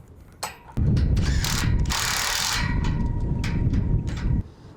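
Steel U-bolt nuts on a solar panel mount being done up with a shifter or rattle gun and 21mm socket: a loud, steady mechanical whirring and ratcheting burst lasting several seconds, close up, with no talk.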